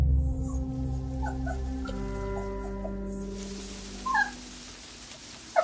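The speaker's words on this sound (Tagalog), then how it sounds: "Yung asong gubat yata yun. Pumasok sa silong ng bahay natin." Dog sounds for a wild dog that has crept under a house in a village aswang tale, mixed with clucking chickens and a whimpering dog, over a sustained droning background, with occasional louder yelps near the end.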